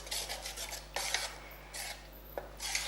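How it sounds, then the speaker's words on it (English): Quiet scraping strokes of a spoon stirring chocolate paayasam in a non-stick pan, several separate rasping passes with short pauses between, close and faint with no talking. "Now keep on stirring it till it becomes a lovely, lovely sauce."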